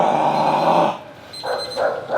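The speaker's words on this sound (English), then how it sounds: "Crazy ass dog." A small dog behind glass snarls and yaps in harsh bursts, a long growling stretch followed by two shorter barks, fairly close and loud with no talk over it.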